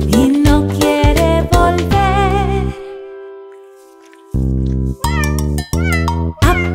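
A cat meows inside a Spanish children's counting song. The meow-like calls come in repeated bursts over bright musical backing, with a short quieter break partway through.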